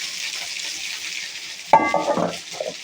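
Mustard seeds and cumin hit a hot pan, bursting into a sudden loud sizzle partway through, with spattering crackles that settle into softer frying; a steady background hiss runs throughout.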